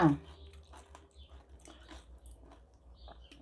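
Crispy fried sun-dried catfish being bitten and chewed up close, with a sharp crunch at the start followed by soft, steady munching; someone talks briefly.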